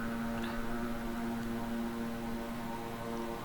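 A twin-engine King Air 350i turboprop in a flight simulator drones past with a steady, strong engine hum and a clear propeller tone that shifts slightly as it passes, with no voices.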